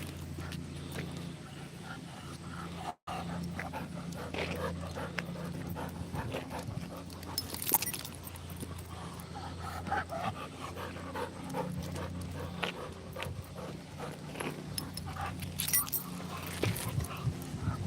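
A dog pants steadily and close for the whole stretch, with a jingle of keys or tags and faint car noise underneath, inside a parked car.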